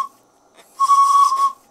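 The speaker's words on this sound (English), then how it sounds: "That's the steam whistle." A steam locomotive's whistle, still warming up and a little dribbly with condensing steam, gives one steady tonal blast of under a second after a faint brief toot, heard alone and fairly close.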